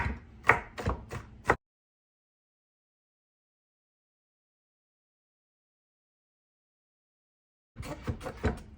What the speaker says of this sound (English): Not really a perfect way to chop garlic.